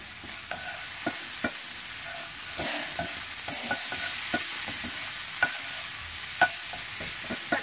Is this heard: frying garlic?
yes